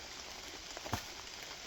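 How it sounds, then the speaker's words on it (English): Quiet, steady patter of rain falling on a surface beneath a tree in foggy, damp weather, with one slightly louder tap in the middle. "it's still raining,"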